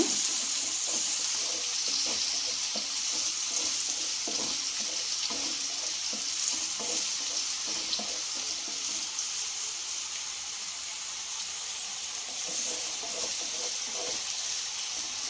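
Mushrooms boiling in a pan while fried rice is cooked, a steady close bubbling and hiss throughout with faint scattered pops and light clinks, no voices.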